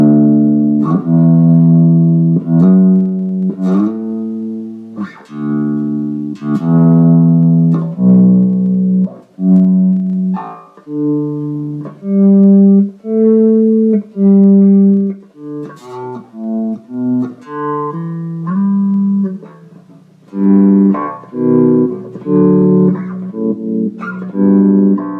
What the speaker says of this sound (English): Slow gear, this is almost like a reverse guitar, kind of takes away some of the attack that allows you to have more almost like a violin sound